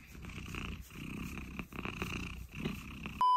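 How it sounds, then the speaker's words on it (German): A male cat purrs close up in a steady, rumbling rhythm that runs for about three seconds, with no voices heard, before the sound cuts off abruptly. "Du bist ein hübscher Kater, Diego"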